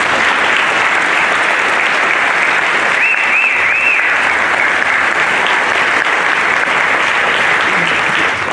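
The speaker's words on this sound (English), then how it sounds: "Let's give these students a round of applause." A loud, dense round of applause from an audience honouring graduating students at a class day and senior signing event, continuous and steady throughout, with a faint whistle or cheer briefly rising above it.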